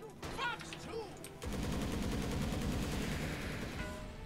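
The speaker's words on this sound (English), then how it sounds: "Homing missile now constantly fires the current level of rocket barrage." Gyrocopter's Rocket Barrage in Dota 2 fires a dense, rapid stream of rocket impacts that rattles on steadily for about three seconds after a brief game-sound lead-in.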